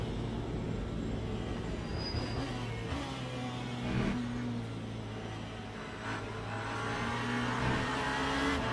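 A Cadillac prototype race car in a racing sim at Daytona approaches amid a steady drone of engines, its tone building gradually over other cars running on the track throughout.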